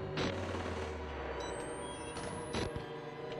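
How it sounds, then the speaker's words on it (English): Gunfire in the horror video game Outlast II, in dense rapid bursts under a loud steady din. A thin tone sweeps upward partway through. "They're all shooting up the place now."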